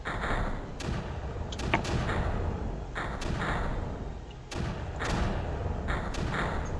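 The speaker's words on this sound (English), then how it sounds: "as long as those mortars keep firing, I'm pretty safe" Mortars fire in the video game Creeper World, a series of repeated dull thumps at irregular intervals over a steady background rumble.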